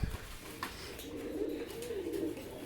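A high flying pigeon, a male and female pair bred for show, gives a soft low coo that swells and fades over a couple of seconds, close and fairly quiet with little else around.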